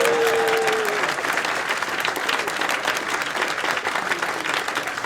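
Steady, dense applause from an audience at a public debate on socialism, sustained throughout with no gaps and fairly loud, a few scattered voices mixed in.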